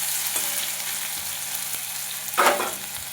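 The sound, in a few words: potatoes frying in a pan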